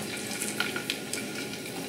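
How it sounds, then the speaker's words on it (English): Tuna steaks searing in a hot pan, a soft, steady hiss of sizzling oil with faint crackles, fairly quiet and continuous, with no talk. "You do want to hear a little sizzle in the pan."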